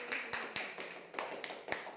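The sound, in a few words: students clapping hands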